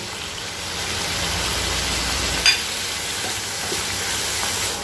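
Small prawns and chopped onion frying in a pan, giving a continuous hissing sizzle at close range with one brief clink partway through and no speech.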